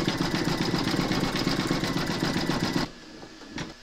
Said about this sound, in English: Load your thread colour for the satin stitching around his dungarees into your machine, and then stitch round number 19.